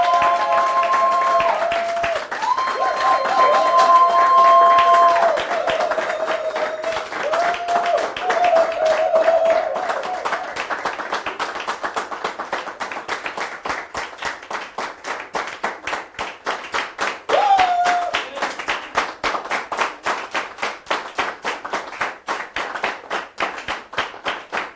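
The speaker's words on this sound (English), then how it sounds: "They are clapping for you." Audience clapping at a values-system training session, dense at first beneath some faint voices and tonal background, then thinning into a steady, sparser run of individual claps that carries on for the whole stretch.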